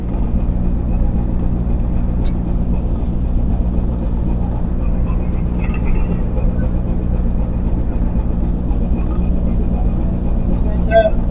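A ship's engine running astern while the vessel undocks, a steady loud low rumble and drone that stays constant throughout, with faint mechanical clatter on top.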